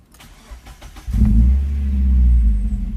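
A 2001 Mazda Miata after a compression test, with coil packs and spark plug wires refitted: a second of starter cranking, then the engine catches and settles into a loud, steady idle close by.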